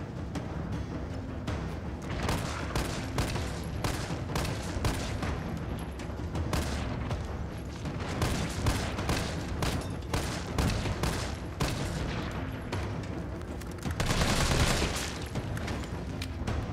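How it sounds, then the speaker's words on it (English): Rapid handgun fire in Resident Evil 3 Remake, a string of sharp, loud shots in quick bursts over a dense, busy game soundscape with booming effects, building to a heavier blast near the end. "Throughout this first section, we can go ahead and use the handgun in order to try to save up on just a little bit of ammo."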